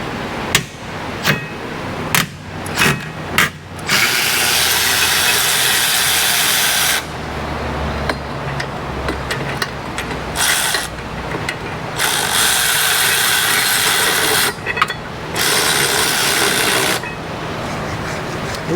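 An old Milwaukee ratchet runs on a car during brake and tune-up work on a Toyota Sienna, giving long loud stretches of whirring, hissing mechanical noise broken by short bursts and sharp clicks between runs.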